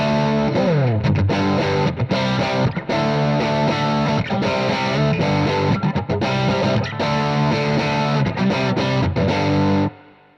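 Heavily distorted electric guitar through a BluGuitar AMP1 on a vintage tone preset with no delay, playing loud, continuous chords and riffs that ring steadily for about ten seconds before cutting off.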